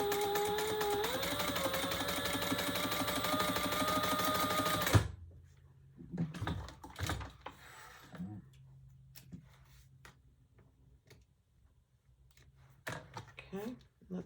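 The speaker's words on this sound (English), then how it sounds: "we're gonna do there's some stitching in the middle" A sewing machine runs steadily, stitching a Magnolia Rae Traveler pouch for about five seconds, then stops. Softer handling clicks and rustles follow, and a person talks.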